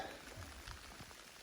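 Rain patters steadily on the ground and leaves along the Appalachian Trail, a faint, even hiss with soft drops and no voices.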